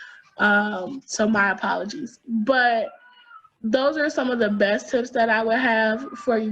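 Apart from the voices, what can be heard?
cat crying in the background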